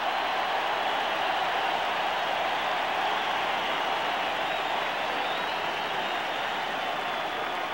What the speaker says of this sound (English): And listen to this crowd salute the defense.